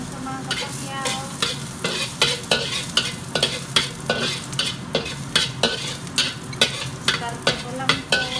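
Garlic fries in hot cooking oil, a steady crackling sizzle punctuated by a regular series of sharp stirring scrapes and clanks of a utensil against the pan, with no talk.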